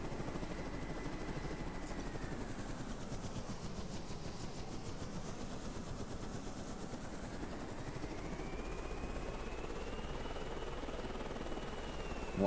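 A Razorbill helicopter in Carrier Command 2 hums steadily with a dense, even rotor drone and a slowly shifting engine tone, continuous and close with no talking.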